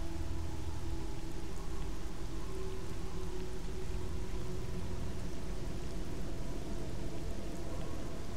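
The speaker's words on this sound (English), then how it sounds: "It's raining." Steady rain falling in the video game Lost Alpha, a dense even hiss of raindrops over a low rumble that continues unbroken at constant loudness, with no voices.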